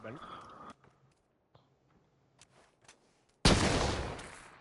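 Gunfire from the video game PUBG comes in a few short, sharp shots amid quiet footsteps, then a loud burst near the end, with people talking over it.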